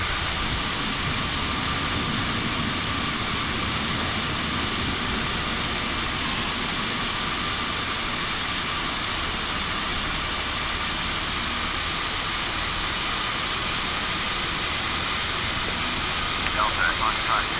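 Aerosoft CRJ jet engines in the Prepar3D flight simulator on landing approach to Westchester County Airport, a steady loud broadband turbine roar with a high whine running throughout, with speech present over it.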